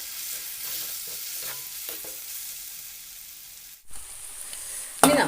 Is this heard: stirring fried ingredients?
yes